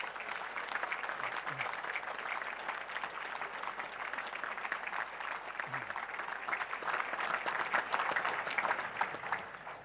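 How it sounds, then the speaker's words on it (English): An audience at a university graduation ceremony applauds the Senate Brass musicians, a dense, steady wash of many hands clapping that holds for the full stretch without letup. "Let's give them a round of applause."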